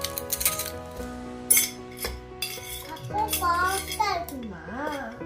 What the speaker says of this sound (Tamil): இல்ல நல்லா மிக்ஸ் பண்ணணும்.